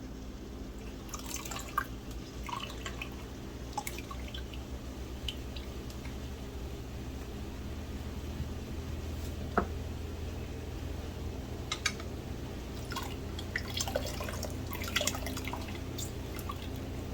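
Fresh lemons squeezed by hand over a pot of herbal cough syrup near the boil, juice falling in a steady patter of small drips and splashes with occasional sharper droplets, close and fairly quiet over a low stove hum.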